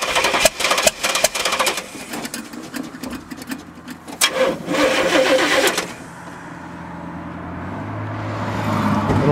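An old four-wheel-drive Jeepster fitted with a 454 big-block V8 cranks with several loud starter bursts, stumbles, then catches and settles into a steady rumbling idle, close and loud.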